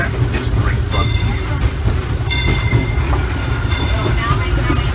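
Disneyland Railroad steam train running, a loud close rumble of wheels with rhythmic clacks, metallic squeals and hissing, with a voice speaking over it.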